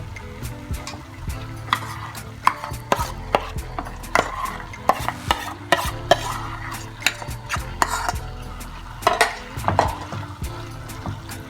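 Mashed smoky roasted brinjal is stirred into a cooked tomato curry in a pan, giving repeated scraping and clacking spoon strokes with a faint sizzle underneath.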